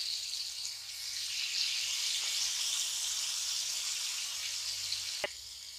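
Marinated pomfret fish frying in a pan gives a soft, continuous hiss and sizzle, fairly quiet and even throughout, with a single sharp tap near the end and no speech.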